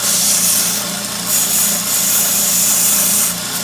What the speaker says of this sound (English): I'm just sanding nearly up to the bezel.